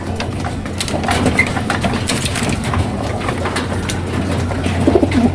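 Two curly-feathered pigeons cooing close by amid steady background rustle and a low hum, soft repeated coos running through the whole stretch.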